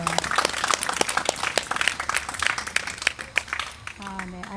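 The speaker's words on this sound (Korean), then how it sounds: "우리 박수로 환영하겠습니다" A crowd at a public talk applauds to welcome a father stepping up to speak, brisk uneven clapping with distinct sharp claps near and far, fading as a voice begins at the end.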